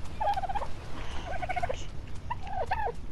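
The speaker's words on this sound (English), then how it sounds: "I am taming that bird" A bird being tamed in ARK: Survival Evolved gives three gobbling, turkey-like calls at a steady pace, each clear and close over a constant noisy background.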